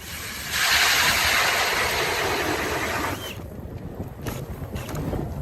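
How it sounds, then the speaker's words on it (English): Steady wind on Lake Francis rushes across the microphone in a broad, loud roar, easing slightly toward the end with some gusty buffeting. "It's just a little windy."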